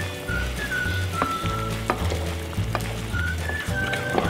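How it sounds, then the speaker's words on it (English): Pork simmering in a cider and cream sauce sizzles steadily in a pan while being stirred, with close, continuous bubbling and occasional scrapes and clinks of the spoon, no talking. "Give it a stir"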